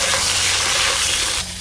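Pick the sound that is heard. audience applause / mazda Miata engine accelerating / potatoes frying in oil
potatoes frying in oil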